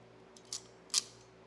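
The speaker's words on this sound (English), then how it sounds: "I'm going to clamp this bad boy down" Small clamp tool crimping a red wire connector while fitting lights to a 2024 Goldwing trike, giving two quiet, crisp metallic clicks about half a second apart over a faint hum.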